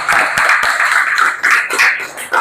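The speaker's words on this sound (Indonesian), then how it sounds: "kita berikan dulu tepuk tangan untuk kelompok 1." Students in a classroom clapping for the first group, steady mixed applause from many hands with a few sharper individual claps standing out, close and fairly loud.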